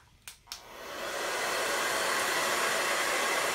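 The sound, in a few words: hair blow dryer running on high heat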